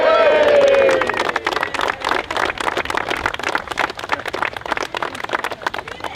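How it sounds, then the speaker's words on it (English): A crowd claps and cheers at a medical company headquarters ribbon cutting, bursting into dense rapid applause after a brief held tone, steady and loud with voices mixed in throughout. "Let's cheer after this"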